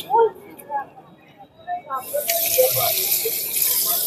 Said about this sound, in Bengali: আমিও একটু পা ধুয়ে নিই